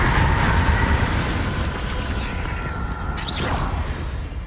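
Confringo blasting spell explosion in the Hogwarts Legacy video game, a loud rumbling blast that decays into a sustained roar with a short whooshing sweep near the end.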